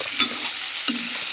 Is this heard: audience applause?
no